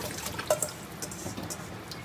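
Water drains from freshly washed bitter gourd with faint trickling and scattered drips, quiet and close.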